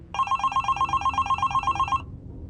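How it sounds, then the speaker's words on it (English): A telephone bell rings in a rapid, steady trill for about two seconds, loud and close, then cuts off abruptly into quiet room tone. "when the phone rang"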